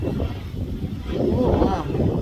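Wind blows outdoors on a cloudy day during a walk with dogs, giving a steady low rumble and buffeting against the microphone across the whole stretch, with a voice faintly beneath it.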